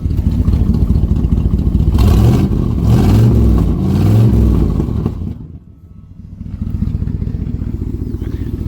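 A Ford Thunderbird's V8 engine with a slight exhaust leak fires up with a loud roar and revs hard a few times, drops briefly to a lower idle, then picks back up into a steady rumble.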